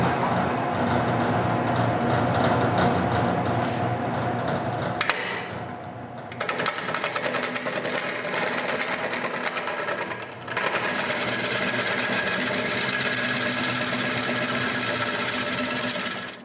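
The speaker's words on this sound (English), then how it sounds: "I can screw that to the lathe and make a true circle out of it" Wooden plate screwed to a lathe and turned into a true circle, with a loud, continuous machine whir and scraping cut, a brief drop-off partway through, then steady running again.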